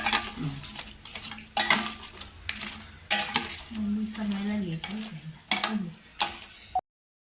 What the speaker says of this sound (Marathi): आता आपण ह्या पाकामध्ये हा सगळा खाजा टाकून घेतलाय.